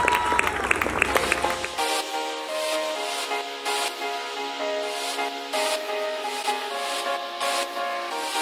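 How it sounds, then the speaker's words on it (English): Audience applause and cheering at a Bollywood dance competition at the Indian Film Festival in Melbourne, clapping that starts over music and carries on as a sustained wash with music continuing underneath. "So huge round of applause to you and your fusion beats."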